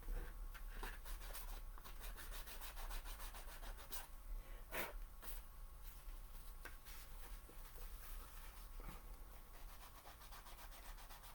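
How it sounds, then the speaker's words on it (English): Steady scratchy rubbing of a sanding eraser on a Christmas card, back-and-forth strokes continuing throughout with a few sharper scrapes, close and quiet. "I might go in with that sanding eraser"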